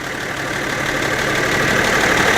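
A Ford 7810 tractor engine runs steadily at a classic vehicle show, a loud, continuous mid-toned drone that swells slightly over a couple of seconds with no voices on top.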